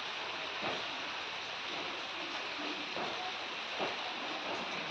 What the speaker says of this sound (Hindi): तो दोस्तों आज भी बारिश हो रही है।